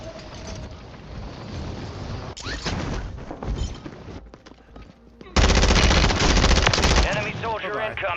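Machine gun fire in a video game, rapid bursts of automatic gunfire that swell into a loud, dense stretch near the end, with game voices and other battle noise around it.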